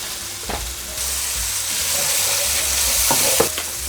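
Garlic and seasoning frying in a pot, with a loud, steady, close sizzle throughout and a couple of faint clinks from a spoon or the pot.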